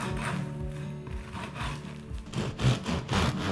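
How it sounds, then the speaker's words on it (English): Knife cutting through the crispy crust of a homemade French boule loaf, making close, quiet crackling and rasping scrapes in a steady sawing rhythm that grow louder toward the end. "as you can hear, the crust is very crispy"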